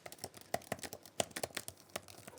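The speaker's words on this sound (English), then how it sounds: "So I like typing on this keyboard." Fingers typing on the keyboard of an MSI Creator Z16P laptop, a quick irregular run of soft, light clicks at close range, quiet and alone with no voices.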